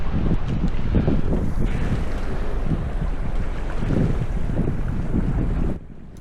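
Sailboat underway at about 5 knots on calm water: a steady close rush of wind and water runs throughout, and it drops off abruptly just before the end.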